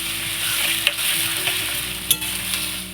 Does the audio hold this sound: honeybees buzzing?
no